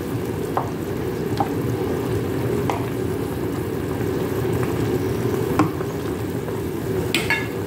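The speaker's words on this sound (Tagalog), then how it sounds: "Tuloy lang ang ating pagpapakulo." Okra and squash simmer in a pot of water, a steady bubbling, sizzle-like hiss with occasional light clinks of utensils, close and continuous with no talking.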